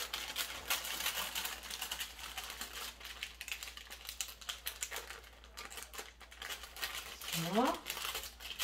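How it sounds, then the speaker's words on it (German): Baking paper is slowly peeled away from a freshly baked sponge cake roll turned out onto a kitchen towel, giving close, repeated crinkling and soft tearing, with a person talking over it. "dann ganz vorsichtig das Backpapier abziehen"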